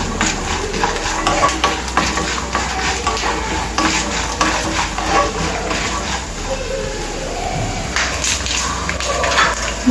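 Cumin seeds sizzle in hot oil in a pan alongside mustard seeds, a steady crackling hiss broken by repeated scraping stirs and light metal clinks throughout, with no talking.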